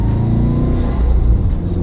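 Car driving on the road, a loud steady low engine rumble and road noise heard from inside the cabin, with no talk.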